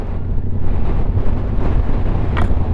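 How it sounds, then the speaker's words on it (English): Strong, steady wind buffets a motorcycle rider's microphone on a hilltop, a constant loud low rumble with gusty roar and no speech. "It is super windy."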